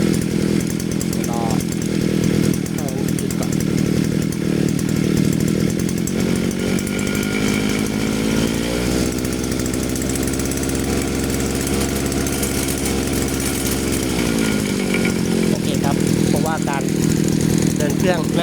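A small Chinese TU43 brush cutter engine idles and then revs up for several seconds before dropping back, loud and close, with someone talking over it.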